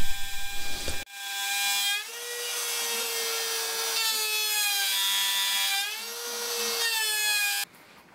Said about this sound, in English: I route in a channel to accept the centre shelf and two perpendicular channels for dividers and decorative supports